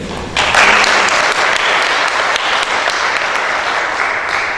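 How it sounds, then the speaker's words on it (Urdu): An audience at a book launch ceremony breaks into a thick, even round of applause that swells quickly and holds steady, with no voices heard over it. "میں سمجھتا ہوں ایک تالی ان کے لیے ہو جائے."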